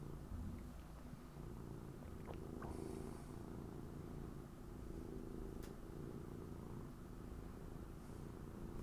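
A cat lying on a person purrs steadily and quietly, a soft continuous rumble close to the microphone with a few faint clicks, and no talking.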